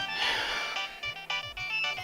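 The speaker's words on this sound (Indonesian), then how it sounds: "itu HP siapa sih yang bunyi terus?" A mobile phone left behind rings with a repeating melodic electronic ringtone, moderately faint, cycling through its tune several times over a low background hum, with no talking.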